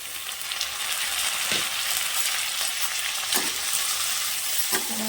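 Chopped tomato going into a sizzling potato and pea curry in a pan, with steady loud frying and hissing plus a few stirring scrapes throughout, no voices.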